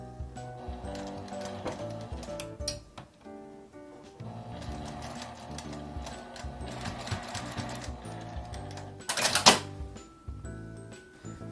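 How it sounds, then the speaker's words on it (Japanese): A sewing machine stitches along the edge of fabric while an L-shaped zipper tablet case is made, running in steady mechanical bursts and pauses over background music, with a sharp, bright rattle near the end. "クリップを取って手で押さえて端を縫います。"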